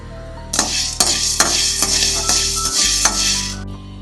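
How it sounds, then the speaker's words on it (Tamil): Black pepper dry-roasting in a pan, with steady sizzling crackle and a series of sharp scraping stirs from a spoon against the pan, close and loud, no speech. "அடுத்ததா மிளகு, இதையும் வறுத்து எடுத்துக்குவோம்."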